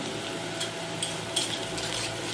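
Panch phoron and ginger paste frying in a pan for bhog rice khichdi, a steady close sizzle with a few brief metallic scrapes of stirring, no talk.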